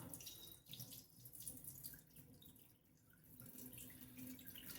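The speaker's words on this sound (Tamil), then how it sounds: "தண்ணியை இருத்துடலாம்" Water draining off washed ragi (finger millet), a close running, splashing stream with rising and falling gurgles, no talk.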